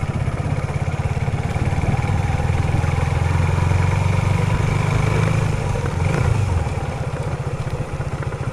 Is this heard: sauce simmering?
no